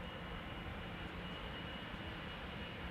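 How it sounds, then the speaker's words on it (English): A KLM Boeing 777-200 airliner taking off at Amsterdam Schiphol Airport, a steady, loud roar of jet engines that holds constant and fills the air without any talk. "something KLM-ish taking off to Johannesburg-ish or something in the vicinity"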